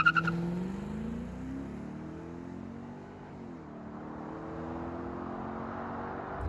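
Lexus GS400 V8 car driving on the road, its engine note rising and falling through gear changes with steady tire and road noise, heard from inside at a smooth, continuous moderate level.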